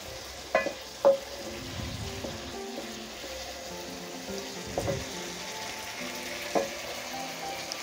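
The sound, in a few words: aloo keema frying in pan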